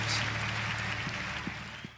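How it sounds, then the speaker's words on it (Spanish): A church congregation applauds at an evening service, a soft, distant wash of clapping that fades gradually over two seconds, with faint background hum. "Usted lo cree, dele un fuerte, fuerte aplauso."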